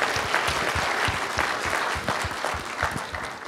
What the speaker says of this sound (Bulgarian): Аплодисменти за Васил.